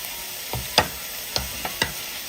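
Cooked pineapple pieces are pressed and mashed in a hot pan, a few distinct soft squelching thumps over a low steady sizzle.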